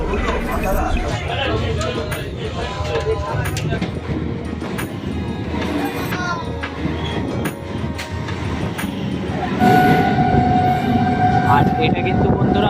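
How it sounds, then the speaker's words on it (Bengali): A passenger train on the Sealdah to Bolpur line runs through a station without stopping at about 60-65 km/h, giving a continuous rumble with rattling wheel clatter and a brief high squeal, while someone talks over it. "কতটা গতিবেগে যাচ্ছে দেখো ট্রেন ষাট থেকে পঁয়ষট্টি কিলোমিটার গতিবেগে"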